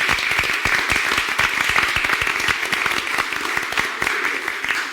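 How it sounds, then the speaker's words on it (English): A round of applause rises from the audience at a Boynton Beach city commission meeting for students who spoke, a dense, steady patter of many hands clapping at fairly close range throughout. "I want to give a round of applause to all the students that spoke"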